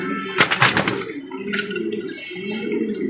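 A female pigeon with striking eyes coos softly nearby, low throaty rolling calls after a brief rustle of wings or handling at the start.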